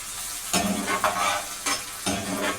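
Drained corn kernels fry and sizzle in a round skillet over medium heat, with a steady hiss broken by bursts of stirring scrapes, close up and with no talking.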